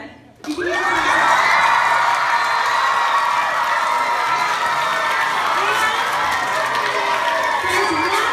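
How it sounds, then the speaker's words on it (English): Children at an elementary school assembly burst into loud, sustained cheering and shouting after a brief quiet opening, a dense roar of young voices filling the hall. "you get to cheer for every adult who was introduced"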